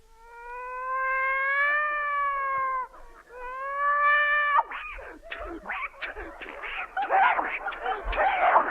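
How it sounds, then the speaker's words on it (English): A 1936 radio sound effect of a cat fight opens with long rising, wavering caterwauls, then breaks into loud, harsh spitting, yowling and hissing scuffles, close up and alone. "A cat fight."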